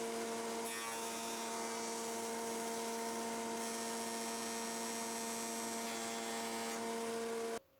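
A power tool cuts finger grips into a rustic wooden tray with a steady, high, humming whine that runs unbroken at a constant pitch, then cuts off abruptly at the end.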